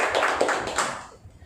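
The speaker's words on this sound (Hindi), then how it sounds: "और हम फिर से एक बार ताली बजाएंगे वर्शिप टीम के लिए" A church congregation at a midweek service breaks into a burst of hand clapping for the worship team, a dense crackle of many hands that swells and then tapers off into quiet.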